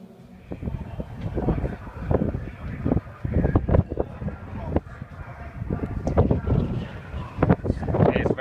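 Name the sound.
wind at Silverstone circuit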